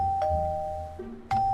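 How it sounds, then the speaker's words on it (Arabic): A household doorbell chimes twice in quick succession, two clear ding-dong tones rising and falling, the second ring arriving after a brief pause and cut off. "دق الجرس"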